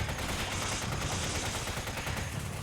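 Rapid, dense gunfire from the video game Resident Evil 5, a continuous burst of shots that fills the whole moment at steady loudness, with no talk over it.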